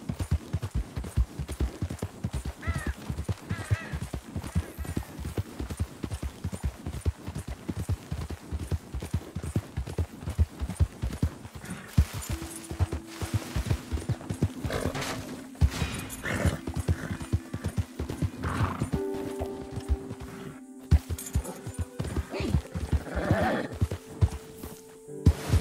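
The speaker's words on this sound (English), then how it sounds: "Who's a good horse?" Steady clip-clop of a horse's hooves trotting throughout in Red Dead Redemption 2, joined later by loud horse whinnies and neighs with a synthetic game-like sheen.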